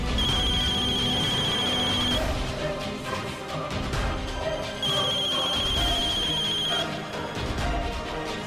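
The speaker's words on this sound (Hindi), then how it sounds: "फोन बज रहा है।" A telephone rings in two loud, repeated electronic bursts with a short pause between them, set in a Hindi TV drama scene with a dense background score and other sound underneath.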